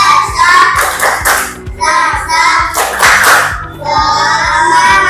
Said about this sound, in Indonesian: Sebelum kita lanjutkan materinya, kita tepuk semangat.